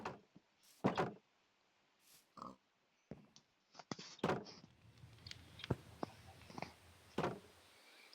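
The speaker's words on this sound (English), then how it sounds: "Now let me open these doors." Doors open in the Minecraft video game with several short wooden clunks and creaks spread across the clip, alongside pig oinks and sparse background noise.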